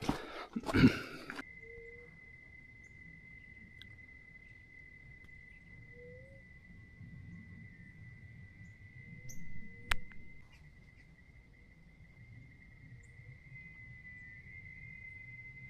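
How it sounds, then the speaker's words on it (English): A steady, thin insect whine from countless cicadas hangs faintly over Chicamocha Canyon, echoing unbroken throughout, with a brief rustle at the start and a soft thump near the middle. "there's just maybe millions of cicadas"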